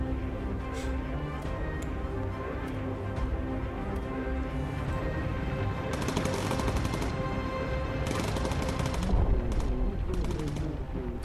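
Rapid bursts of Bomber Crew game gunfire over a steady loud backdrop of engine drone, with several dense volleys in quick succession.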